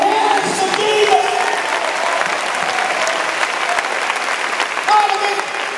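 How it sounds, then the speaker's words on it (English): A church congregation clapping together during a service, a steady dense wash of applause that runs throughout, with faint singing or voices mixed underneath. "Clap your hands to Jesus!"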